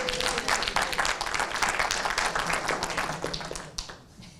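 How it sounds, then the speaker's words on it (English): Audience applause at a Peekskill Women's History celebration, a dense wash of many hands clapping for about four seconds before thinning out toward the end, with faint voices underneath. "We can clap it up for that."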